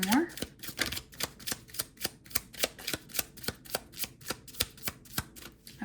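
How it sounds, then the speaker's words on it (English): Tarot cards are shuffled in a quick, regular run of crisp taps and flicks, close and fairly quiet, with a brief vocal sound at the very start. "I find shuffling the cards so relaxing."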